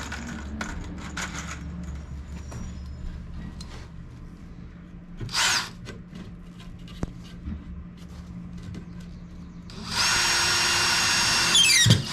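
Power drill driving one-and-a-half-inch screws while building a protector for shrubs, with short whirring bursts and then a loud sustained run at the end, among tool clatter and handling noises outdoors.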